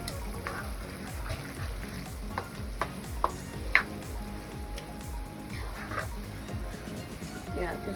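Thai basil pork stir-fries in a pan with soy sauce, fish sauce and sugar: a soft, continuous sizzle broken by scattered clicks and scrapes of a utensil stirring, fairly quiet and close.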